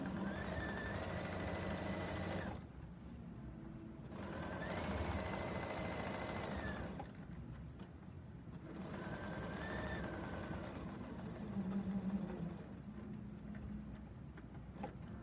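A serger sewing machine stitches quilt binding in steady whirring bursts of a few seconds each, separated by brief pauses, running up close with no talk.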